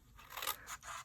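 Scissors snip through card stock in a paper craft project, two quick soft cuts heard faintly and up close.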